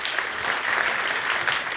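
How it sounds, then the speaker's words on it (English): Audience applause at a tech and startup conference talk, a steady dense wash of many hands clapping that stays loud and even for the whole stretch with no voices over it. "Big round of applause."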